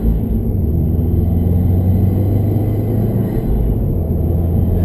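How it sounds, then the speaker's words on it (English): Steady low engine rumble from a 2016 Subaru WRX STi under way, with a constant hum and faint high whine from the turbo, close and even throughout, no talking. "I just love the sound of that turbo"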